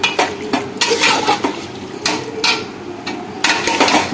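Mutton sizzles in a pan with ground garam masala while a metal spoon scrapes and clanks against the pot in repeated bursts, close and loud over a soft frying hiss, no speech.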